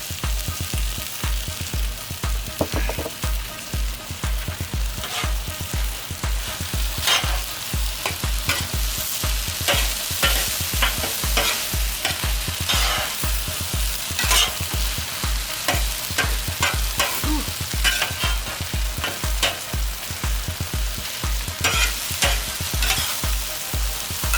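Beef and green onion stir-fried on a Hunsaker griddle set up over a smoker, with a loud continuous sizzle and rapid, rhythmic spatula scraping and tapping throughout, and no talking.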